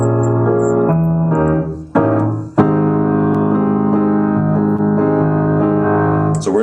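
Sustained chords from a song ring out steadily, shifting to a new chord twice in quick succession near the middle before settling into a long held chord, with no talking.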